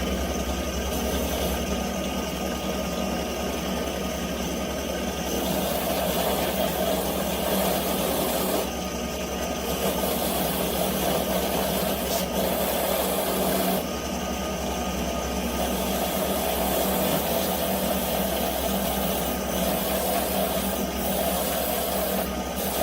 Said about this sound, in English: I'm gonna go ahead and buffer out and get rid of the surface rust of whatever was left behind